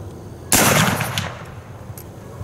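A single sharp, loud gunshot from an 1842 rifle musket firing a .69 caliber ball, with a ringing echo trailing off over about two seconds and a faint later report.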